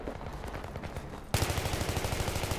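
RPG fire and gunfire in the shooter game Battlefield 3: a continuous rattle of shots, then a sudden louder blast followed by rapid, heavy repeated firing.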